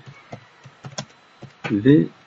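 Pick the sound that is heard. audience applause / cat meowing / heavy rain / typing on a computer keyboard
typing on a computer keyboard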